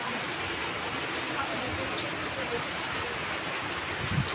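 Steady, hissing rainfall pours continuously at an even level at Britannia beach resort, with a faint voice briefly audible near the end.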